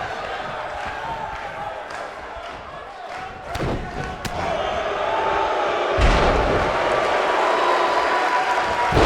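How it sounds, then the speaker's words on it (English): Heavy thuds of a wrestler slammed onto the ring mat during a professional wrestling tag-team match, several impacts over a steady arena crowd roar that swells toward the end. "He slams him down with authority."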